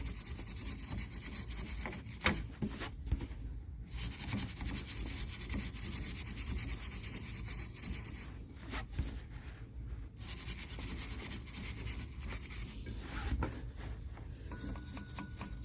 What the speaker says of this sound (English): And clean also the pulley.